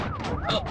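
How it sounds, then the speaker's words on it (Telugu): A wailing electronic siren on a highway sweeping up and down in pitch, fairly loud over a low rumbling background. "సైరన్ సౌండ్ అండి"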